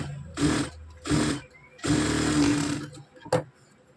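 Sewing machine stitching a princess-cut blouse in three short bursts with brief pauses between them, ending with a single sharp click.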